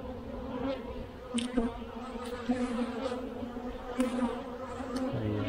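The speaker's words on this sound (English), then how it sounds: "There just seems to be a lot of bees in there." Honey bees buzz inside a crowded triple-deep hive, a steady low hum of many insects close by with occasional louder passes and faint clicks.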